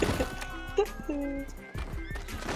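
Horses in Red Dead Redemption 2 give short whinnies and neighs amid hoof clatter and game noise, with speech mixed in.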